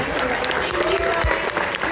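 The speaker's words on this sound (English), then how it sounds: "huge round of applause for these marvelous folks" Audience applause at a Tegan and Sara film premiere Q&A for Fanatical at NewFest NYC, a steady round of clapping filling the room, with a voice speaking faintly over it.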